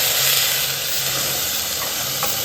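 Tomato paste hits hot oil already holding a bay leaf and whole garam masala spices for a soybean roast, giving a steady, loud, close sizzle and hiss with no talking.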